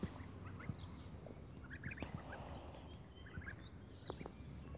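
A farm turkey gobbles in short bursts among other fowl, with scattered clucks and calls over a low, steady farmyard background and no talking.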